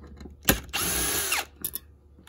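A power drill whirs briefly to back screws out of a VW Passat B5 1.8T engine control unit, one sustained buzzing run of about a second between short clicks and handling noises, close and fairly quiet.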